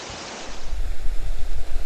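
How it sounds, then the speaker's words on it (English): A steady roar of falling water swells in after a quieter start, broad and close, with no voices. "I hope you can see the waterfall coming down."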